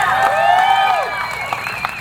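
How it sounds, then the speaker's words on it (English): A live event audience gives a round of applause for a team, with steady clapping and crowd noise under a bright, sustained tonal sound, fairly loud throughout. "And also give his team a round of applause"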